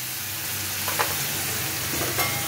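A bowl of water is eased into roasted semolina in a hot pan, giving a soft, steady sizzle with two brief bubbling bursts, fairly quiet and close.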